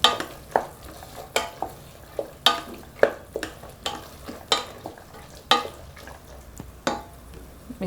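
Turmeric and fresh green peas are stirred in a frying pan, a spoon scraping the metal in regular sharp strokes about once per second over a soft background sizzle.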